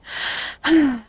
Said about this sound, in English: Sorry for the maxing out mic for the breathing.